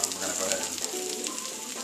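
Chicken schnitzel frying in a skillet, giving a soft, steady hiss of sizzling oil, faint and continuous over a brief moment.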